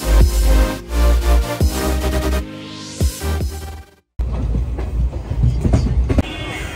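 A Purbanchal Express train at a Kolkata station rumbles loudly and steadily, with rail clatter and hissing brakes, a short gap of near silence, then renewed clacking and mechanical noise.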